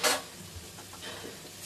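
Masoor dal bora, lentil fritters, frying in hot oil. A steady sizzle runs throughout, broken by a brief stirring scrape at the start and soft clinks of the pan, with no voices.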